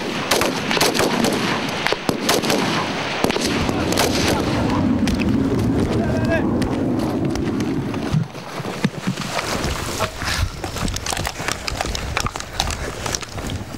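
Rapid gunfire during a French Foreign Legion combat exercise, sharp repeated shots and bursts crackling throughout, some near and loud, over engine-like rumble with brief shouted commands.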